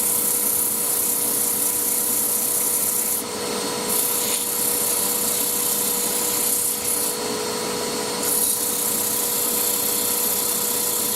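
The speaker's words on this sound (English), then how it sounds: "And here we go, everybody's favourite, nice bit of sanding." Wood is sanded on a lathe through grits from 120 up to 600, a loud, continuous rasping rub over a steady motor hum, with a few brief changes in pressure.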